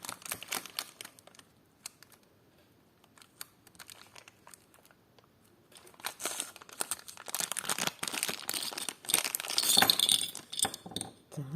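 A plastic packet of vintage clip-on earrings crinkles and rustles in scattered bursts, quiet at first and then louder and busier as the packet is pulled open up close.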